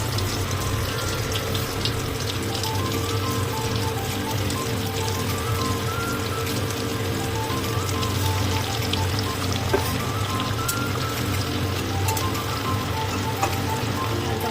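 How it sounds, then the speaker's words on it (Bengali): Potatoes fry in hot oil for a homemade biryani, giving a steady, dense sizzle that holds at an even level throughout without pauses. "ওখানে আলুটা ভেজে দেবো।"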